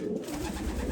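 Racing pigeons of the Wooters line coo softly in a very cold loft near 1 degree Fahrenheit, a low, continuous murmur close by with no talking.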